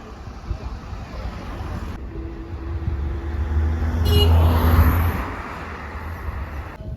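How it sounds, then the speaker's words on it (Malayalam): Road traffic with tourist buses on a cold, windy hill road near a church at Calvary Mount, a vehicle engine rumbling past and swelling loud midway, with steady wind noise throughout. "ടൂറിസ്റ്റ് ബസ്സുകളൊക്കെ വന്ന് അത്യാവശ്യം തിരക്കായി കേട്ടോ."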